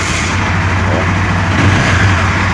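A Honda Twister motorcycle engine running steadily just after starting, with its starter motor newly replaced, a loud, close, continuous idle rumble throughout with no gaps.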